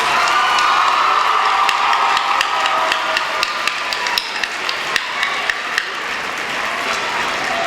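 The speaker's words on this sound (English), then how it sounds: "Let's give them all one last big round of applause." A school pageant audience applauding, with dense, sustained clapping and some cheering filling the room, a few louder individual claps standing out near the end.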